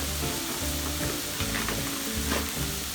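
Chopped vegetables for a turkey breast stuffing sauté in a hot pan, giving a steady, close sizzle and crackle that runs unbroken throughout, with no voices.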